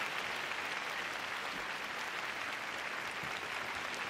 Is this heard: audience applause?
yes